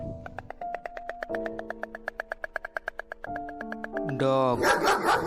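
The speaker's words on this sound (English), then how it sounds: "Dog." A dog barks in a short flurry of sharp yaps toward the end, following a bright, regular tinkling jingle of tones.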